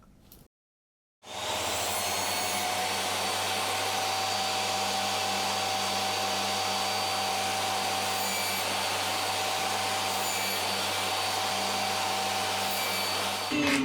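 Electric power saw cutting the corners off a wooden octagon for a DIY lazy Susan, running as one loud, steady whine that starts abruptly after a short silence and holds for over twelve seconds.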